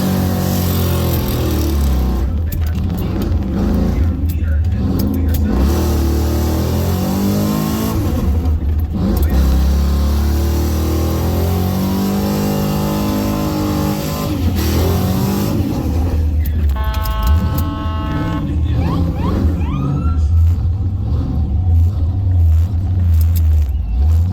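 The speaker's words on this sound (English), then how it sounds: "Cleater, backwards burnout." Chevrolet S10 pickup with a 5.3 engine doing a backwards burnout in a burnout pit at Bristol, engine revving hard and sustained with rising and falling pitch, loud and close throughout.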